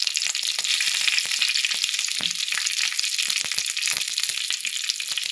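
Green chillies frying in hot oil in a pan for a maize-flour bati dish, giving a steady, dense, close sizzle that crackles continuously throughout with no pauses.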